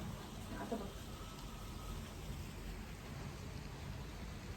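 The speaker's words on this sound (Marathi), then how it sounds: "असा भुरभुर भुरभुर असा पाऊस पण या ठिकाणी आलेला आहे" Steady, soft drizzle hisses continuously in the background outdoors during a Ganesh idol arrival, a dense even patter with no other clear sounds.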